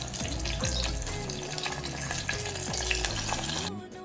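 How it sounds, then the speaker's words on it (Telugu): Tomatoes frying with onions in a pan for sambar, a close continuous sizzle with scraping stirs and a faint watery hiss underneath. "తర్వాత టమాటోస్ కొంచెం మెత్తగా అయ్యే వరకు వేయించి అందులో కొంచెం పసుపు, కారం వేసుకొని బాగా వేయించాలి"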